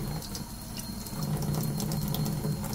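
Warm tap water running steadily while an HP ENVY printer cartridge is cleaned, a constant close hiss of flowing water with faint clicks, no voices.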